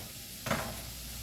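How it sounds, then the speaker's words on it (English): Bacon bits frying in a pan give a steady, close sizzle throughout, with a brief louder scrape or stir near the middle and no voices. "while these bacon bits are cooking"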